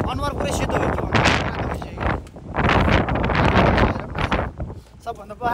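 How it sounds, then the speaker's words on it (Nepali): Strong seaside wind on Jebudo island, Korea, buffets the microphone in loud, roaring gusts that rise and fall, with brief voices breaking through between the blasts. "अलिकति हावा चाहिँ हान्दो रहेछन्"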